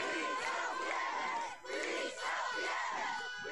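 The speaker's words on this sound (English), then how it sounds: "Hundreds of people have joined a protest outside a hospital in Liverpool" A protest crowd outside a hospital in Liverpool shouts and chants together in loud, surging waves of many voices, with brief dips between the swells.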